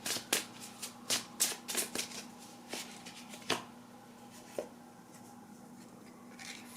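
Tarot cards being shuffled by hand in a quiet room, a series of crisp riffling bursts spaced irregularly over the first few seconds, then fewer, softer flicks near the end.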